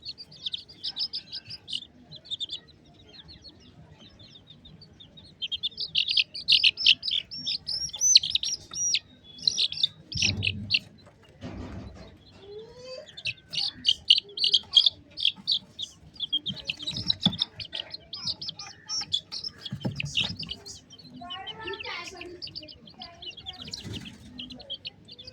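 A brood of young chicks keeps up a busy chorus of high, overlapping peeps and chirps throughout, moderately close, with occasional soft thumps and handling noises beneath.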